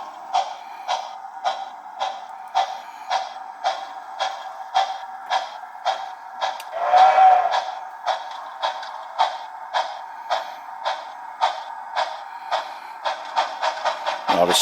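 Model train locomotive pulling off a Walther's turntable onto the ready track, giving a steady rhythmic clicking of wheels over rail joints at close range, with a brief hiss partway through.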